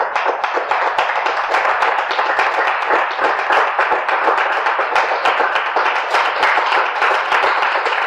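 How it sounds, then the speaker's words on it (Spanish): Loud, close congregation applause during a church sermon, a dense, fast and steady clapping of many hands that holds an even intensity throughout without talk. "Dile ese fuerte aplauso, papito Dios"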